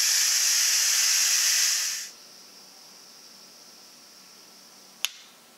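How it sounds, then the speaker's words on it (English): Hot steam blasts from an Instant Pot's quick-release valve during cooking of a Tuscan soup, a loud steady hiss for about two seconds that abruptly cuts to a faint residual hiss, followed by a single sharp click. "This switch right here, I'm going to pull this back, steam is going to come out."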